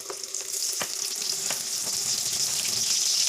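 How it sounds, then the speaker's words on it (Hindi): Eggplant pakoras frying in hot oil for a crispy pakora dish, giving a steady, close bubbling sizzle throughout with a few sharper crackles early on. "अब बैंगन के पकौड़े डाल दूँगी।"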